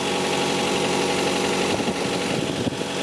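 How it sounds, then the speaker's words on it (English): A first-generation Chevy Volt's petrol engine runs with the hood open, a steady close mechanical hum and rumble at idle, with a few slight irregular knocks toward the end and no talking. "So when the hood is open, the engine runs."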